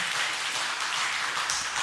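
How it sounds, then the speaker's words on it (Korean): A church congregation applauds during a Sunday worship service, a dense, even wash of many hands clapping, fairly soft and sustained for a couple of seconds. "스스로를 위해서 격려의 박수 한번 해주시길 바랍니다"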